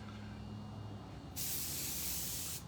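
An airbrush sprays black paint onto a baseball helmet: low background rumble first, then a sudden steady hiss of compressed air and paint that holds for about a second before stopping.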